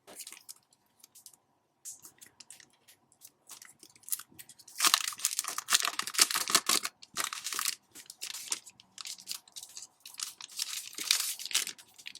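Simply Gilded sticker subscription packaging being torn and unwrapped up close, with bursts of crinkling, rustling paper and plastic that grow busier and louder midway, no talking.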